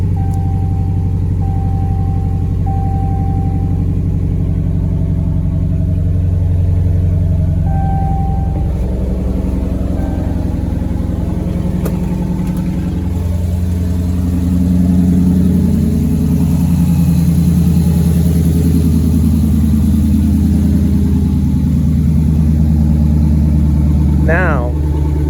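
A swapped 392 engine in a Dodge Challenger, Charger, Magnum or 300 runs with no exhaust fitted, a loud steady rumbling idle with some revving throughout, while people talk over it.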